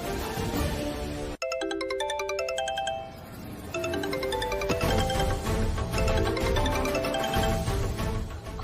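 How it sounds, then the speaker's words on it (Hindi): A phone ringtone plays a bright, repeating electronic melody, loud and close, continuing steadily with no voices over it. "अरे फोन उठाओ गायत्री"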